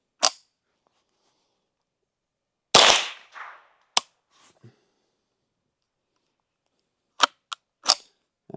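.22 pistol shots, a handful of sharp, loud reports spaced irregularly with quiet gaps between, one early, a strong crack near three seconds, then several quick pops toward the end, with a jamming pause breaking the rhythm.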